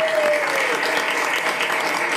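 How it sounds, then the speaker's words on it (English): A crowd claps in a full, even round of applause, loud and sustained throughout the short stretch with no talking on top. "Yeah, give them a round of applause."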